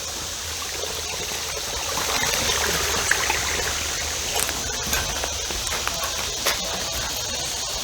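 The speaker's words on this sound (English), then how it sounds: "I saw the little creek." A small creek at Colonial Plantation in Ridley Creek State Park flows with a steady broadband rush and trickle, near and continuous, with faint background noise and no clear talk.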